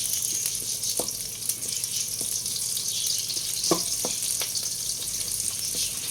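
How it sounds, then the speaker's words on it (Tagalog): Garlic, onion and ginger sauté in a pan for adobong paa, giving a steady, close broadband sizzle with a few soft clinks from a utensil, and no voices. "Saute."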